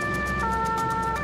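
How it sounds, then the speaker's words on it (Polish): An ambulance siren wails steadily and loudly at an accident scene, a continuous sustained tone with no speech over it. "Karetkę."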